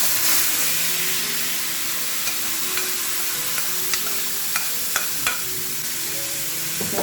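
Cooked tomatoes are stirred and mashed in a frying pan, a steady sizzle under light scraping taps of the spoon, close and without talk.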